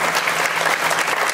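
An audience at the Danuta Rinn festival final gala gives dense, loud applause, an even wash of many hands clapping without a break.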